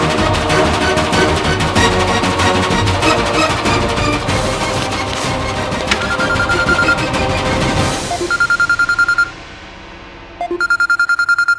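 A phone rings with an incoming call. Repeated electronic ringtone beeps cut in after loud, dense music and ring out in short, evenly spaced bursts.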